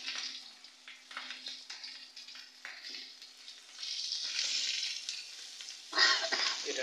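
Food frying in a wok gives a steady, bright sizzle that swells louder toward the end, with occasional stirring scrapes and no talking.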